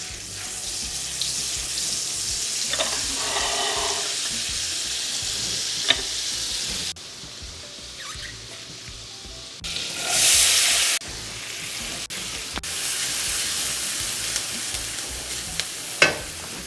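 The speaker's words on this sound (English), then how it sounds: "we're going to fry the onions in some olive oil and butter" Onions fry in olive oil and butter over medium heat. A steady, close sizzle runs throughout, broken by brief clinks, stirring scrapes and a short splash of running water.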